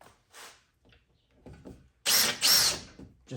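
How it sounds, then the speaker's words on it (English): A power drill bores small holes for a KFI winch mount on a 2018 Polaris Ranger 900 XP, two loud close bursts of whirring grind after quieter handling noises. "get our 2 little holes drilled and that bolted in"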